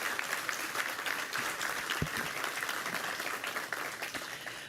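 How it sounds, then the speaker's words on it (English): An audience at a fertilizer company event applauds after a USDA official's speech, steady dense clapping at moderate volume with a few sharper individual claps standing out. "A big round of applause for this incredible company."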